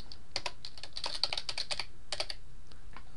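Typing on a computer keyboard gives bursts of quick, close key clicks in two clusters, with a pause between and a few scattered taps at the end, without speech.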